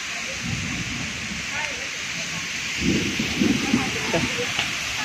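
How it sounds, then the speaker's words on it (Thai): Steady rain falls as a constant hiss at Pha Daen Cave in Sakon Nakhon, Thailand, with a low rumbling murmur rising and falling beneath it toward the end. "บรรยากาศฝนตก"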